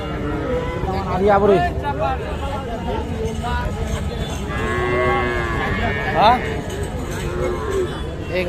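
Young heifer calves moo repeatedly at a busy rural cattle market at Kaharol haat. The loud, drawn-out lowing calls rise over steady crowd chatter and people talking nearby.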